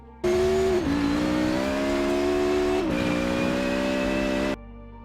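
An Audi Sport Quattro S1 rally car engine in the video game Forza Horizon 4 revs hard and steadily at high pitch, dipping briefly twice as gears shift, loud and close before cutting off abruptly.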